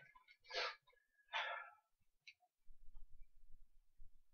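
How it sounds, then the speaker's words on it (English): Two sharp sneezes in quick succession, followed by a faint click and then low rumbling handling noise. "I've sneezed so bad."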